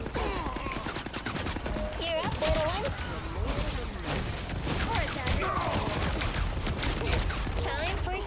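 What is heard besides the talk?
mines going off in Marvel Rivals video game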